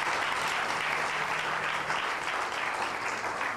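A congregation at a Hindi-language church convention gives loud applause in the name of Jesus, sustained heavy clapping from a large crowd filling the hall evenly throughout.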